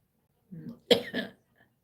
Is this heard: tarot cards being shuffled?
no